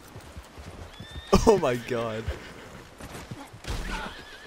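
A horse in Red Dead Redemption neighs loudly in a long, wavering whinny, with a person exclaiming just before and more game noise afterward.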